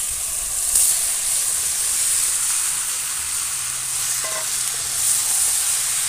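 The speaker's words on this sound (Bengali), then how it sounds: "দিয়ে ভালো করে নাড়াচাড়া করে আরেকটু কষিয়ে নেব।" Fried potatoes, prawns and jackfruit cook in masala in a pan, giving a steady hissing sizzle with an occasional faint stir or scrape and no speech.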